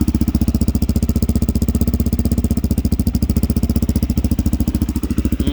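A Honda XL250r motorcycle with a Supertrapp exhaust idles steadily, a loud, close, rapid single-cylinder thumping that holds an even beat throughout with no voices.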